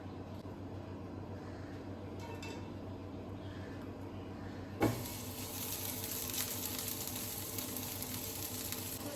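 Sliced onion and long strips of capsicum hit hot oil in a pan for a Philly steak sandwich, breaking into a loud, steady sizzle that keeps crackling without pause after a quieter start.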